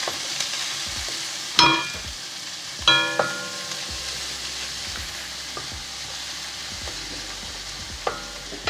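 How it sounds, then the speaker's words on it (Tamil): Chopped onion, green chili and curry leaves sautéing in a pan for vegetable patties, a soft steady sizzle with occasional utensil clanks against the pan and light stirring, close and without speech. "அதோட கொஞ்சம் கருவேப்பிலை எல்லாத்தையும் சேர்த்து கொஞ்சம் வதக்கலாம்."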